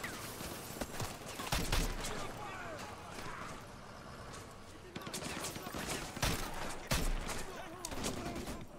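Distant volleys of gunfire in Call of Duty MW2 crackle in repeated bursts over a rumbling background, with a voice talking through parts of it.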